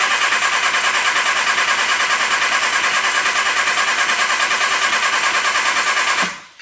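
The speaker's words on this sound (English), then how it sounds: "now I can hit my starter and get my oil pressure up" A Triumph MKIII Spitfire engine is cranked on its starter to build oil pressure, giving a steady, loud, rhythmic churning that cuts off abruptly at the end, with no talking.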